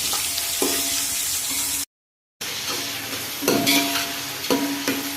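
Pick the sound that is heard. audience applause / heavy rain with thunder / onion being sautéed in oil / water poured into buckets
onion being sautéed in oil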